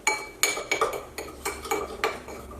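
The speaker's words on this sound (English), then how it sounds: "Sorry, my bowl is so loud, or my scraping is so loud." A spoon scrapes and clinks against a mixing bowl while stirring sugar scrub, a series of sharp irregular scrapes about every half second, close and fairly quiet, with no talking.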